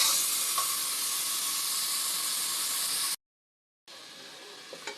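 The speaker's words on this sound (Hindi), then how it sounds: "यहाँ पे देखें जी गोश्त काफ़ी हद तक फ्राई हो चुका है" Mutton pieces fry in a pan for a Peshawari rosh, giving a steady, dense sizzle and hiss that cuts out briefly and then resumes at a slightly lower level.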